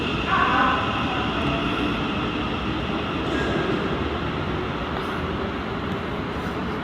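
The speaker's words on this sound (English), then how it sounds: "Here we have a cross-country Voyager going through to Southampton Airport" A CrossCountry Voyager diesel unit passes through Stoke-on-Trent station on the West Coast Main Line with a loud, steady roar and rail rumble that holds throughout.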